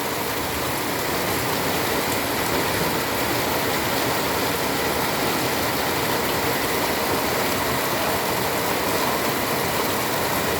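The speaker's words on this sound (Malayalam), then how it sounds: "നല്ല മഴയാണ്" Steady, dense monsoon downpour in Kerala roaring without a break, a constant loud hiss of heavy rain with a low rumble underneath, as water starts running off; recorded on a mobile phone.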